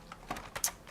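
Keystrokes on a computer keyboard, likely a membrane type, in a handful of quick, uneven taps across a short burst, close and moderately quiet with no talking.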